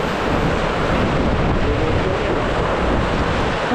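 Strong storm wind with rain during a typhoon in the Philippines, a steady, loud roaring rush that buffets the microphone without a break and drowns out everything else.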